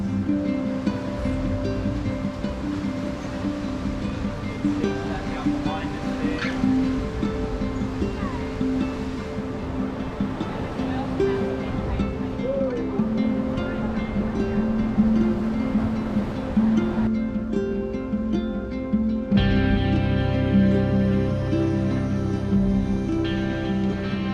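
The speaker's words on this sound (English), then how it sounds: "A few sneaky swells rolling up." Ocean swells roll up onto the Tasmanian coast in a continuous broad wash of surf, steady and fairly loud, with a faint murmur of voices in the background.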